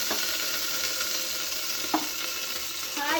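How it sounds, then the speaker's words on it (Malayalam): Garlic paste stirred and sizzling in a frying pan, a steady close frying hiss with a few sharp scrapes of the spoon against the pan. "നല്ലോണം ഇളക്കാൻ നോക്കാം"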